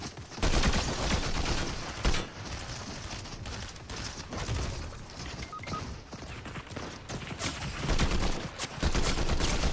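Rapid bursts of gunfire in the video game Fortnite crackle through most of the stretch, dense and loud with overlapping volleys, near and distant, and no voices over them.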